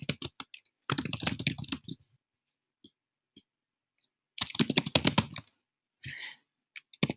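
Close keyboard typing in bursts of quick clicking keystrokes, separated by quiet pauses with a few isolated key taps, while text is entered with Photoshop's type tool on a computer.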